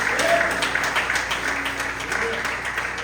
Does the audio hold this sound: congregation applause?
yes